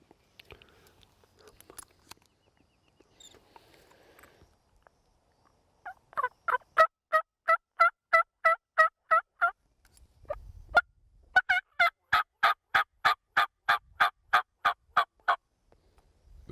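Wild turkey gobblers on a Texas ranch gobbling, a few faint calls first, then two long runs of rapid, rattling gobbles close by in an otherwise quiet outdoor setting.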